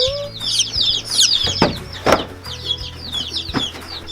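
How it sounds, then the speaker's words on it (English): Americana, lavender Orpington and bantam chicks peep in a brooder, a busy cluster of high chirps running throughout, with a few louder knocks and thumps close by. "we also picked up some Americanas, some lavender Orpingtons, and one little bantam chicken"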